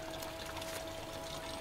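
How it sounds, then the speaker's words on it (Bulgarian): Water runs from a small mountain drinking fountain along a forest eco-trail, a soft continuous splashing trickle heard close by and fairly quiet, with no voices. "Тече вода по тях, така че предполагам става за пиене."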